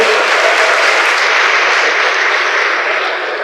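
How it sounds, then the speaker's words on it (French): Sustained applause from a stage show audience in Kinshasa, a dense steady wash of many clapping hands at full strength, easing slightly at the very end, with no voices over it. "Applaudissez pour vous-même, s'il vous plaît."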